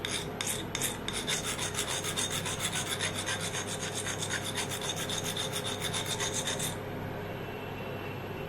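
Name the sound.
sharpening a blender blade with a sharpening stone or file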